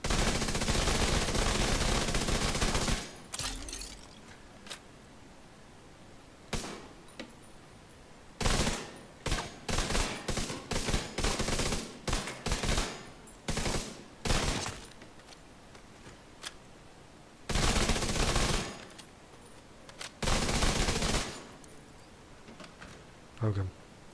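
Weapon fire in The Division 2 video game, with sustained bursts of rapid automatic shooting broken up by short volleys and pauses, loud and close, while a person talks between and over the shots.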